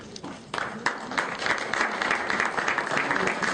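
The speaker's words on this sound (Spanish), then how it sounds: "izcarra, decano del Colegio Médico del Perú, a quien lo recibimos con un aplauso." Steady applause from a crowd, close and sustained, with a burst of clapping rising after a brief lull at the start.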